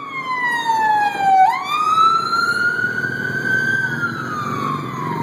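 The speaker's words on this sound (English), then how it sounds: "here's an ambulance coming" A loud ambulance siren wails close by on a road in the Philippines, its pitch dropping sharply as it passes, then continuing to sound as it moves on.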